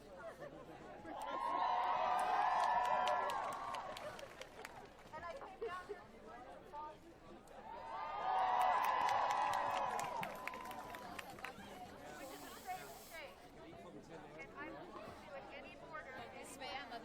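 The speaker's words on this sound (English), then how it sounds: "You can hear the crowd." Crowd at an abortion rights protest in Washington D.C., a distant outdoor swell of chanting and cheering that rises twice and fades, with chatter and voices over it.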